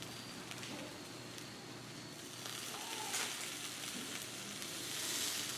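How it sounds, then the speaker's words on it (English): Thin pieces of deer heart sizzle steadily on a grill, a soft continuous crackle with a few faint pops and no talking. "we're gonna start putting it on the grill"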